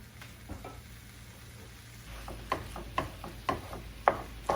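Minced meat for lasagna sizzles in a frying pan, a soft steady fry joined after a couple of seconds by a louder sizzle and a series of sharp scraping stirs, close by.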